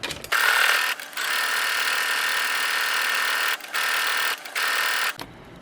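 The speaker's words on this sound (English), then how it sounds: "I'm going to sew this at 1/4 of an inch" A sewing machine stitches a bikini strap at a quarter inch in loud, close bursts: one long steady run, then shorter runs with brief pauses.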